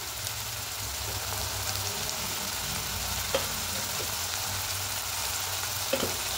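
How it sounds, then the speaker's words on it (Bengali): Onion, tomato and ginger-garlic paste frying in a pan, a constant close sizzle with a couple of faint stirring knocks, no voices. "এবার খুব ভালো করে পেঁয়াজ, টমেটো আর আদা রসুনের পেস্টটা একটু কষিয়ে নেব।"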